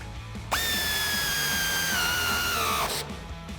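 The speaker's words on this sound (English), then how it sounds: "We're going to grab our ratchet and tighten it down." A powered ratchet tightens a 13mm bolt during a lift kit install on a 2009-2018 RAM 1500, giving a close, steady whine of about two seconds that sags slightly in pitch before cutting off.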